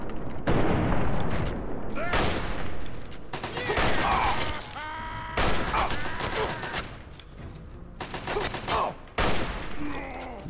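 Gunfire from a headshot on a super mutant brute in Fallout 3, heard as a loud burst of shots amid game sound effects and someone talking throughout.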